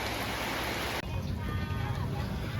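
Heavy rain pours down outside a football stadium in downtown Sisaket, a dense roaring hiss that shifts abruptly partway through, with someone talking over the downpour.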